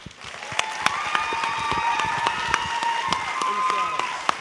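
A crowd at a parks and recreation theater show applauds for a performer, with scattered sharp claps and cheering over a sustained tonal sound and talking voices throughout.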